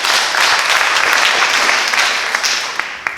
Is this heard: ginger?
no